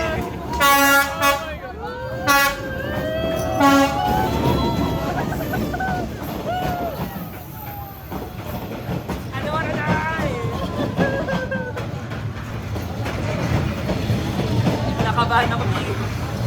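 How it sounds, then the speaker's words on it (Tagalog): Train rolling through Hanoi's narrow train street, horn toots and rumble of the passing cars close by, with excited voices and crowd chatter throughout. "The train is here!"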